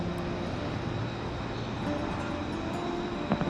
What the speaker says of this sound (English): See that tram right there going by?